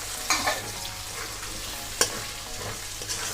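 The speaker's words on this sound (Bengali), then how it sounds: "পেঁয়াজ লঙ্কা আদা রসুনের সাথে টমেটোটাও এখানে খুব ভালো করে কষে নেব" Chopped tomato fries with onion, chilli, ginger and garlic in a pan for egg tarka, a steady close sizzle broken by a few sharp spatula scrapes and knocks.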